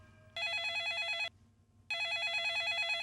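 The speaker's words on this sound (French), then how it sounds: "Soudain, le téléphone sonna." Telephone ringing in a Miffy children's cartoon: two long bursts of a bright, trilling electronic bell separated by a short pause, loud and alone over a faint low background.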